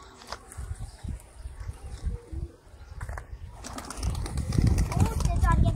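Pigeons of the Sialkot chat-flying breed coo in low, repeated murmurs close by, with a person talking over them and rustling near the end.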